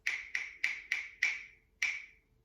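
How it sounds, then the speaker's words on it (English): Rhythm sticks tapped in a pattern of six crisp, bright clicks, four quick even taps, then a fifth, a pause and a final tap, close and alone in a quiet room. "So if I did it on the sticks, it would sound like this."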